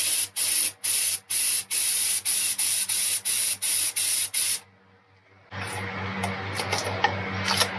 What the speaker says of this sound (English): and we're spraying. Not only is this cleaning the vessel, it's cleaning out the nozzle and the inside of the gun as well.